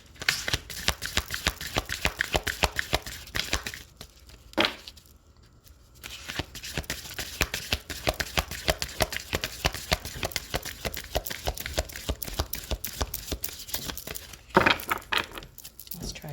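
A deck of cards is shuffled repeatedly during a spiritual card reading, giving steady rapid riffling and flicking near at hand, with two short pauses and a few sharper taps.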